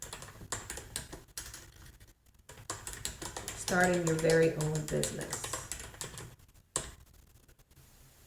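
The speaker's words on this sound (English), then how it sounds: "I'm going to type it in here." Clicking computer keys come in quick irregular runs with brief gaps, close and clear, while a voice speaks over part of the typing.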